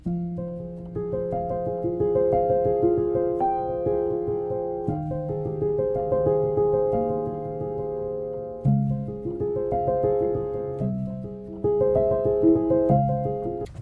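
Soft, mellow piano chords and melody, damped by material placed between the strings and hammers, notes held steadily in a continuous phrase without talking.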